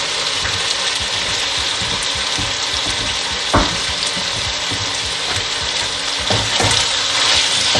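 Onions for plov frying in a hot pan produce a loud, dense, continuous sizzle and crackle close by, with a few sharper pops and stirring knocks.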